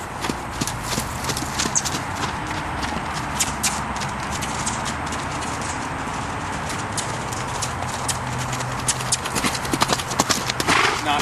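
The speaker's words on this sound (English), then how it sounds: "Drive him off this way." Hooves of a 3-year-old mustang gelding clip-clop steadily on the ground as it moves around during rope groundwork training, the footfalls close and continuous, with a trainer talking at times over them.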